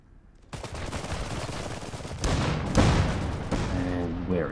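Battle in the real-time strategy game Iron Harvest, with a dense, continuous barrage of cannon blasts and gunfire. Louder impacts hit midway and the din continues to the end.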